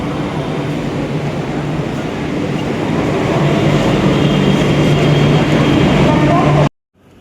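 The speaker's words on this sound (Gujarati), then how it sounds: "આ ટ્રેનમાં જ આપણે આવ્યા." A train at Churchgate railway station in Mumbai gives a loud, steady rumble that swells slightly before cutting off abruptly near the end.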